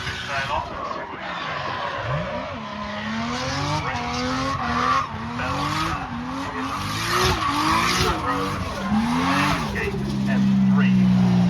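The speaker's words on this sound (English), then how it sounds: "Tried to get it into the drift." A gold-painted BMW E36 M3 drifts at a drift event, its engine revving and wailing while the tires squeal and skid in long sweeping bursts, loud and sustained over the whole run.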